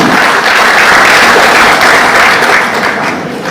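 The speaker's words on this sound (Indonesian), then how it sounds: "Tepuk tangan." Loud, dense applause from the crowd at a Muhammadiyah anniversary reception in Banjarmasin, a continuous wash of clapping that holds steady and tails off slightly at the end.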